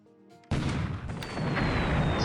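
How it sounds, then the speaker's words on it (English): Naval bombardment at Kuching in a World War II strategy game hits as one sudden, loud boom after a quiet start, then rolls on as a sustained rumble of shellfire. "Naval bombardment there at Kuching."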